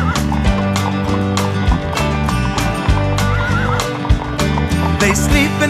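Horses neigh and gallop with clip-clopping hooves on a farm, the loud whinnies and rhythmic hoofbeats running steadily under a bright layer of music throughout.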